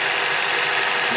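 A four-cylinder Acura TSX engine idling while being checked for a misfire, giving a steady, loud, close-up mechanical hum and hiss with no breaks or voices.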